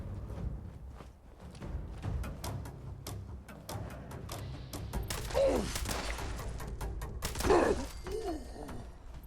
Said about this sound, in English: I have my far-flung fireworks maxed right out. So sometimes you'll see these explosions happening